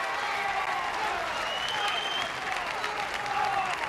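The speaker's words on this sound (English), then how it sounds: "it's not often an open frame will get applause like that" A crowd applauds at a ten-pin bowling match, Dom Barrett against Chris Barnes at the 2009 Weber Cup, with sustained, even clapping from a large arena audience and a commentator talking over it.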